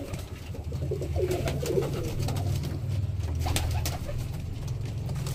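A loft full of pigeons coos in a soft, overlapping murmur, joined by scattered wing flaps and scuffling at moderate distance.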